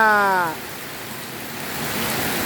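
Steady rain falls softly outdoors where spray painting is under way, a broad even hiss that fills the clip after a brief spoken word at the start and grows slightly heavier toward the end.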